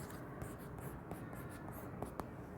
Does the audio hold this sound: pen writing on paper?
yes